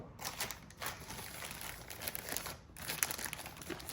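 Plastic packaging crinkles and rustles as a HappyLight Alba light is unpacked from a plastic bag, close and fairly quiet, with continuous handling noise and a few sharper crackles.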